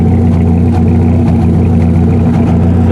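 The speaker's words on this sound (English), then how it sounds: "you hear the engine is misfiring." Close at the tailpipe, a misfiring 2.2 engine in a 2002 GMC Sonoma puffs out a loud, uneven exhaust rhythm with occasional stumbles over a steady low idle and no talking.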